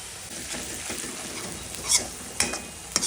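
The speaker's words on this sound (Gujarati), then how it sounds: "તેલ ગરમ થાય ત્યારે તેમાં આપણે ક્રશ કરેલી ડુંગળી નાખી દઈશું" Crushed onion sizzles in hot oil in a pan, a steady close frying hiss broken by a few sharp scrapes and clinks of a stirring utensil.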